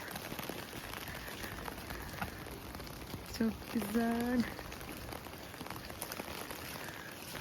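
Steady soft patter of wet sleet falling outdoors, with a brief spoken remark partway through.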